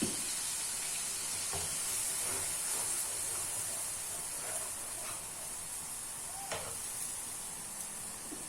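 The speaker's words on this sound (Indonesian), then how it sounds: "Di sini juga airnya udah mendidih." Water boils in a pot with a steady hissing, bubbling roar at low to moderate level, broken by a few faint clicks and knocks, with no one talking.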